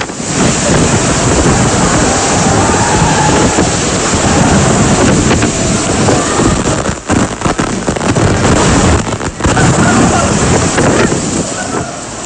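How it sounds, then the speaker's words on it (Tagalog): Typhoon storm surge on a coast, roaring waves and howling wind battering the microphone in a loud, dense, continuous rush, with brief dips in the gusts. "Ang bayan ng Digmoto, tinamaan din ng storm surge."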